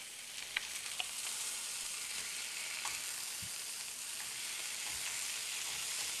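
Sausages searing in a pan give a steady, close hiss of frying fat with occasional small pops and a soft knock of handling. There are no voices.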